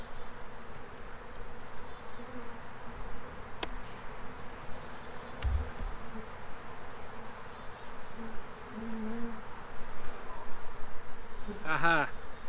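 Honey bees buzz around an open hive during a March hive check, a continuous close drone with individual bees passing by, plus a brief louder rising whine near the end.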